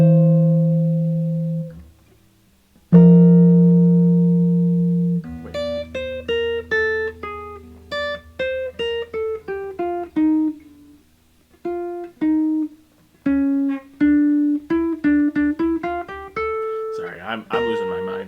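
An electric guitar plays a scale in contrary motion on the 1st and 6th strings, opening with a few ringing low notes and then a steady run of plucked notes moving apart, close and clear.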